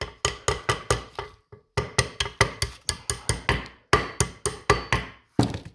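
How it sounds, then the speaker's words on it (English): A small brass hammer taps a pin through a Case DI tractor clutch, about twenty sharp metallic strikes in quick, uneven bursts with short pauses between groups, close and fairly loud. "Take a little brass hammer. There we go. Tap it through."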